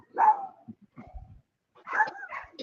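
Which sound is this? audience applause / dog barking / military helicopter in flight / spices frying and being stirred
dog barking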